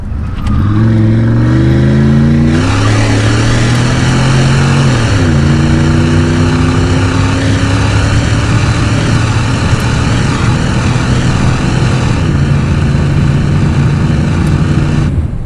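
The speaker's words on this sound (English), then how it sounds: "we got the ability to manually shift through the gears, so we might as well, right?" A 1989 Chevrolet Camaro IROC-Z with the TPI 5.7 V8 revs up through the gears, its loud engine note climbing, dropping at each shift and then holding a steady drone, heard from inside the car with no talking.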